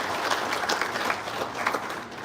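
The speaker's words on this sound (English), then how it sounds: "Please give GEP a round of applause as well." Audience applause for the event partner at the SAIPEC 2026 conference, a steady wash of many hands clapping at moderate volume throughout, with no voices over it.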